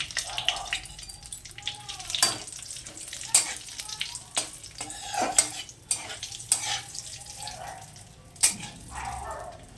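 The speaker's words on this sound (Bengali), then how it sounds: "যে তেলটা ছিল তার মধ্যে জিরে ফোড়ন দেওয়া হয়েছে, তেজপাতাটা ফোড়ন দিয়ে দিলাম।" Cumin seeds and a bay leaf tempering in hot oil, a soft sizzle under repeated scraping and clattering of a spoon against the pan, with talking nearby.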